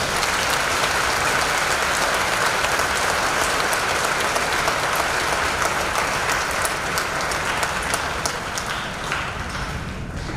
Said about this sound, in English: Let's pause for a moment and give our parents and teachers a big round of applause.